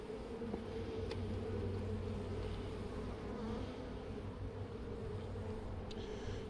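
A honey bee swarm in hive frames gives off a dense, continuous buzz, heard close and steady throughout, with occasional louder individual bees passing near.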